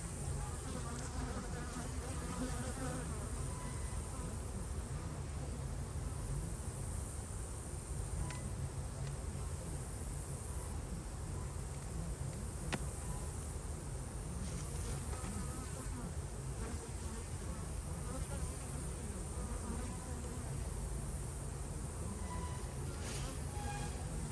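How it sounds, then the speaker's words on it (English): Honey bees buzz around an apiary hive, a dense and steady drone that stays close and continuous throughout, with no talk. "Lots of bees."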